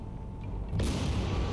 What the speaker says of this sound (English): Oh, had a secondary explosion, and she is down.